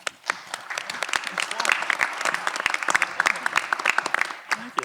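A crowd at the Bristol Municipal Forum 2023 applauds a moderator taking the floor: steady, dense clapping from many hands, fairly close and unbroken for about five seconds.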